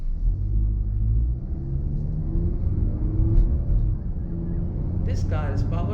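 Toyota Camry with a 2.4-litre VVTi petrol engine driving along, a steady low road rumble and engine hum throughout, with a voice briefly audible near the end.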